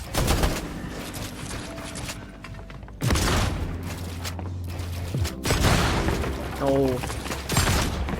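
Gunfire in Fortnite: rapid bursts and single loud shots crack in close succession with mechanical clatter and booms, while a player talks excitedly over the action.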